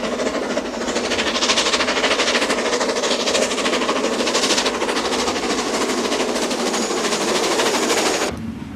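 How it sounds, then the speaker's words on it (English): Britannia Class 70023 Venus steam locomotive hauls a northbound freight up the 1 in 75 gradient on Shap, its exhaust a loud, steady, rapid roar that runs throughout and drops away abruptly near the end. "Britannia Class 70023 Venus hauls a northbound freight up the 1 in 75"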